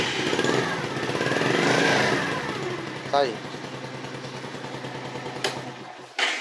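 A 50cc motorcycle engine cranks on the electric starter and settles into a steady, close idle. Someone talks over it throughout.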